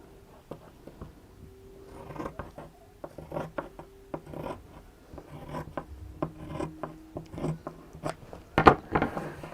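Bag strap material, about an inch wide, being cut at close range: a series of short scraping, rasping snips and clicks spread across the stretch, with a sharper snap near the end and no talking.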